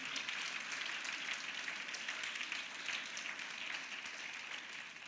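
A church congregation applauding during a sermon, a steady wash of many hands clapping at once, moderately distant and sustained throughout without a break.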